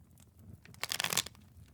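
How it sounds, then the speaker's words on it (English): A quick, crisp riffle of cards being shuffled, a short papery burst rising and fading within a second, close by and fairly quiet. "Shuffle again."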